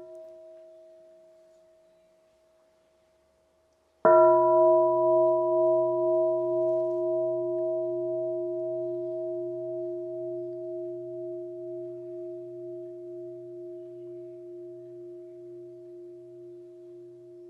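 A meditation bell is struck once, loud and sudden, then rings on with a long, slowly fading hum and gentle wavering pulses, alone with no talk.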